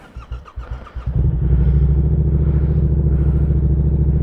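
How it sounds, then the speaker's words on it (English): A Yamaha R7 motorcycle engine cranking with a few quick chugs, then catching and settling into a loud, steady idle, close by. "This bike won't be cold started, but take it out and see how it sounds."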